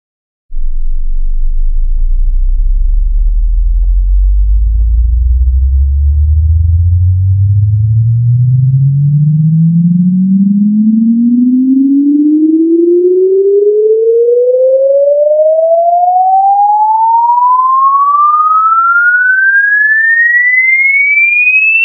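A steady pure sine-wave test tone sweeps smoothly upward in pitch from a deep low hum to a high whistle, continuous and loud throughout, with no other sounds.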